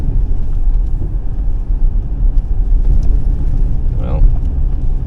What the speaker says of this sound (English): Well, big hydro truck. Oh, and another one. And another one.